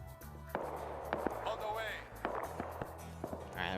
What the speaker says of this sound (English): You can actually hear the gunfire.